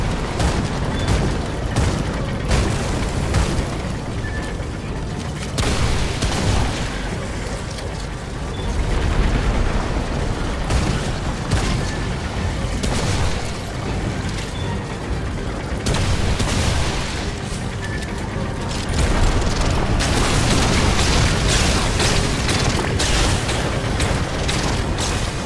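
Remnant II gameplay with dense, sustained weapon fire and booming explosions, loud and continuous throughout with rapid shots layered over rumbling blasts and no speech.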